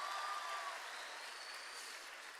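Faint, steady applause from an audience at a public government event in India, a continuous wash of clapping lasting the whole moment with no speech over it.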